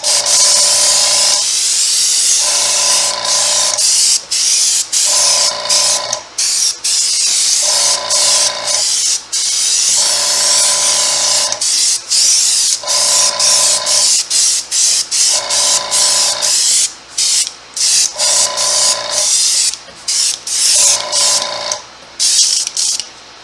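An airbrush sprays V-Gloss rubber cement sealer onto a latex mask in repeated short hissing bursts, each a second or two long, close and loud, with brief pauses between them.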